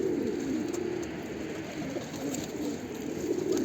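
Pigeons cooing in a loft, a soft low burbling coo repeating steadily over a faint background hiss, fairly quiet and with no voices.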